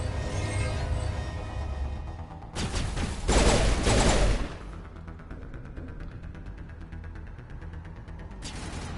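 Gunfire in the video game Mass Effect 1 Legendary Edition, a dense burst of rapid shots peaking loud in the middle, with steady battle noise before and after.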